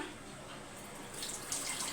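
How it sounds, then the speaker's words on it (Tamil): Water poured into a pot of beetroot kootu, a steady soft rushing stream that brightens toward the end, close and moderately quiet. "இப்போ இன்னும் ஒரு அரை கிளாஸ் தண்ணி ஊற்றிக்கலாம்"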